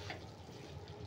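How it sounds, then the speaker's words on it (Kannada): A small splash of water is poured into a cooking pan while broad beans sabji is being made. It makes a faint, brief, continuous trickle. "ನೀರು ನೀರು ಸ್ವಲ್ಪ ಹಾಕ್ತೀನಿ ಈಗ"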